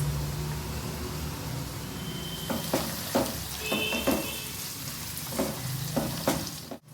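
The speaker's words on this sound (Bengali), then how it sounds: "এটাও একটু ভেজে নেব সবজিগুলো খুব ভাজবো না" Carrots and beans frying in a pan for egg fried rice give a steady close sizzle, with several sharp scrape-and-stir clatters from a spatula in the second half and no talking.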